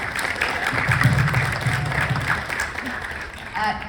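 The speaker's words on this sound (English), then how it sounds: "Give me an applause for that." Audience applause at a Smallville fan convention panel in New Jersey, a steady spread of clapping from a seated crowd that holds for several seconds with voices mixed in.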